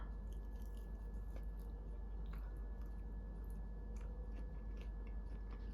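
Someone chews vegan, gluten-free fried chick'n up close, producing soft, faint, repeated squishy bites and mastication over a low background hum.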